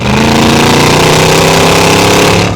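A loud, deep Mercedes G63 AMG exhaust with Fi-Exhaust valves closed rumbles steadily at close range, a thick throbbing drone that holds for a couple of seconds.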